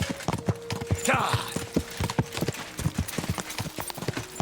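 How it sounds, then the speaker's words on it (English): Horse hooves clip-clop at a steady walking rhythm in Kingdom Come Deliverance 2, a close and clear series of beats running throughout, with a brief shouted voice over them. "My god, that is a beautiful horse."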